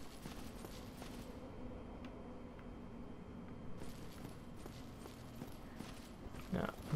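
Footsteps approach in the Dark Souls video game, a faint, muffled series of rhythmic clopping steps under low game ambience, growing slightly louder toward the end.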